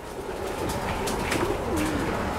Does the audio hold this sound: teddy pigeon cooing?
yes